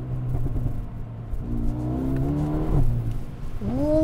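A Mercedes-Benz A35 AMG accelerating under turbo boost, its engine note rising steadily in pitch, dipping briefly at a gear change, then climbing again, heard from inside the car without talk.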